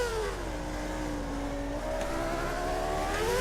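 A Formula 1 race car in the F1 2013 video game at the Hungaroring drifts out of a corner. The engine whines steady and loud throughout, its pitch dipping and then climbing as the car powers out of the turn, with no talk.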